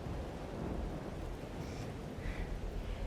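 Thunderstorm ambience from the video game Life Is Strange: Double Exposure, a steady wash of rain and low rumbling thunder that fills the scene without letup, with no talk over it.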